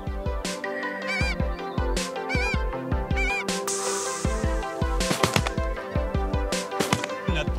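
A flock of Canada geese honks repeatedly in a dense, overlapping chorus of loud nasal calls arriving during a hunt, close and continuous with a rapid irregular rhythm.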